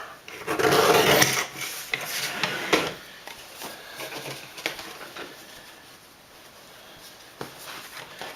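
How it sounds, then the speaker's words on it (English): A paper trimmer cuts a strip from a piece of card for handmade card making, with a loud, close sliding cut at the start followed by quieter scrapes and handling clicks. "I'm actually going to trim this card just a little bit to make my mirror board stretch further"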